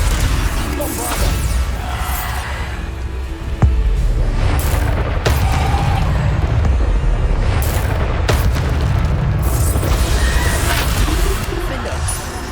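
Bombarda blasting spell explosions in the Hogwarts Legacy video game, a string of loud booming bursts and crashes over dense rumbling combat noise, with a voice speaking at times.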